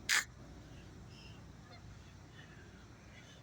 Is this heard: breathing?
no